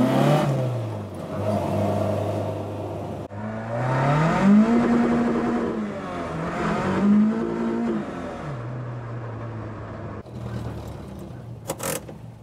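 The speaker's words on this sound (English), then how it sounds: "revs are going down slightly at idle" Small engine idling with the revs dipping and sagging, suspected blocked carburettor idle jets, the pitch rising and falling unevenly as the engine struggles to stay running, close and alone.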